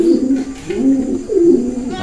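Close, loud cooing from a Taiwan pigeon of a breeding line, three rounded throaty coos in steady succession.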